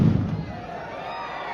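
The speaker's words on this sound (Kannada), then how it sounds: "ಪಟಾಕಿಗಳ ಅಬ್ಬರ" Firecrackers burst at a Deepavali kabaddi tournament, with a loud blast at the start that fades into a rumbling crowd wash, and a voice talks over it.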